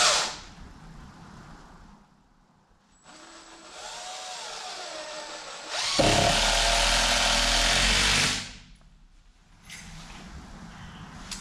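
Structural screws are driven into wood with a power driver while building a shop mezzanine storage area: bursts of whirring motor, the longest and loudest running a couple of seconds, separated by pauses with faint handling noise.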